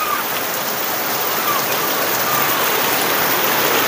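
Heavy rain pours outdoors in a dense, constant hiss of drops hitting surfaces, loud and close, with no break across the few seconds.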